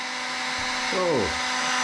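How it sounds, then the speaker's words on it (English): A circulation pump in a Twinheat TW1 heater starts up, giving a brief rising and falling mechanical whine over a steady background hum before it settles. "Now the pump is starting."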